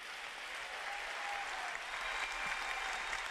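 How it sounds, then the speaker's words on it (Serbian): Steady audience applause fills the space at a film festival closing ceremony, a dense even wash of many hands clapping without a break, heard alone and at moderate distance. "Sad može aplauz za njih."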